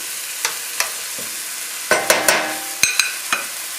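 Vegetables sauteing in a pan with turkey medallions, stirred now and then: a soft sizzle under scattered scraping clacks of a utensil, a busier cluster of stirring noises in the middle, no talking.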